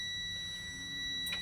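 A truck's low air pressure warning alarm sounds as a steady high-pitched electronic tone, faint and continuous inside the cab during a brake check.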